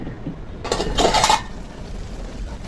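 A metal lid set onto a cooking pot of Bengali fish-and-vegetable chorchori: two quick clattering clinks close by, then a short metallic rattle as it settles, with no talking.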